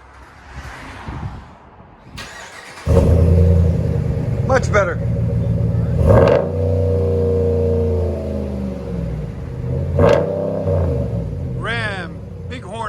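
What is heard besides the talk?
RAM 1500 5.7L HEMI exhaust revving with muffler delete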